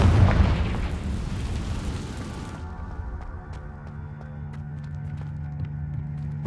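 A Confringo spell explosion in Hogwarts Legacy opens with a loud broadband blast, then falls away into a low humming tail with faint sparkling crackles.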